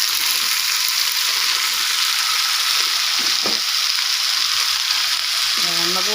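Vegetables sautéing in a pan with fried shrimp paste, a loud steady sizzle and hiss with a brief clack of a utensil and a short voice near the end.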